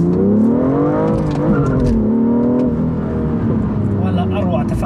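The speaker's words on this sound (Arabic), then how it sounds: "ولا اروع تفاعل السياره، حتى نسوت باك فاير السياره" A 2016 BMW M2 engine revs in a sustained, loud tone that rises and falls, close up; any backfire pops are not clearly distinct, and a voice appears to run beneath it.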